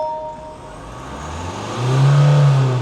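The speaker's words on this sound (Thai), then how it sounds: "อันนี้เป็นเสียงเครื่องยนต์เดิมๆนะครับ ไม่ได้มีการปรับแต่งนะครับ" A stock, unmodified 2019 Isuzu MU-X 1.9 diesel SUV starts and idles up close, its steady engine hum rising into a louder, revving surge near the end.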